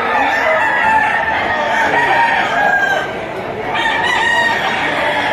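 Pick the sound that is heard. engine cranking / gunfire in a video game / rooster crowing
rooster crowing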